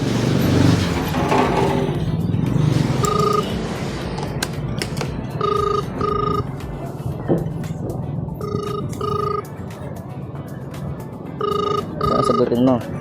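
A phone's ringback tone repeats in short double beeps, about four rings across the clip, as a call is placed to a drop-off location in Tondo, under ongoing talk and street noise.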